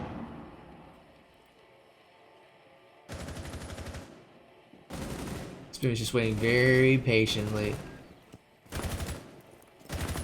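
Bursts of automatic gunfire in a Rainbow Six college esports match, loud rapid volleys in several separate bursts, with a caster talking in between.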